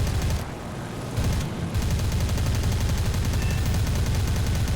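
Rapid automatic anti-aircraft gunfire in War Thunder, a dense continuous stream of heavy shots, loud and close, briefly pausing before resuming.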